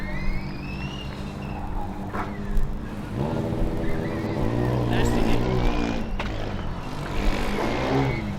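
A Formula Student race car runs flat out on an autocross course at Formula Student Germany 2012, its engine note rising and shifting as it passes, while a commentator talks over it.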